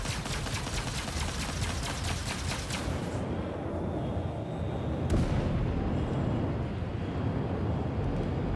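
Missile launch and explosions in the space combat game Star Citizen: dense rumbling blasts and crackling fire fill the clip continuously, with a sharp burst about midway, loud and close, no talking.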